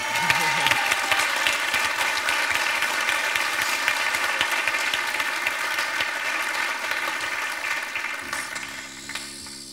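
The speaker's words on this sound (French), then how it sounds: "on l'applaudit" A television studio audience at a game show breaks into sustained applause, loud and dense for most of the stretch, with music playing alongside before it cuts off near the end.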